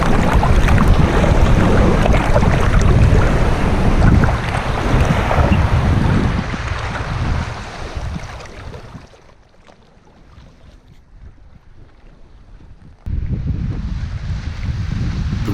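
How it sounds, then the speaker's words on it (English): Strong wind of about 25 knots buffets a sailboat on a swelly sea, with loud roaring gusts and rushing water that drop away partway through before surging back abruptly near the end. "The wind was blowing a good 25 knots"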